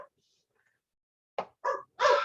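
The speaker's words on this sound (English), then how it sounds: "that dog that's barking is deaf and can't hear that the dog is barking" A dog gives three short barks, close and moderately loud, after a stretch of near silence.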